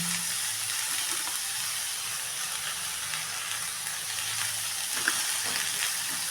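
Cardamom, cinnamon, sesame seeds and other whole spices fry in hot oil in a pan, giving a steady close sizzle with occasional faint crackles and a quiet clink or two.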